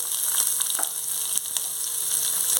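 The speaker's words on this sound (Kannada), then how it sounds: "ಸ್ವಲ್ಪ ಫ್ರೈ ಮಾಡ್ಕೊಳ್ತೇನೆ" Onion and curry leaves frying in oil in a pan for a Mangalorean jackfruit dish, a steady close sizzle with a few brief crackles and pops, no talking.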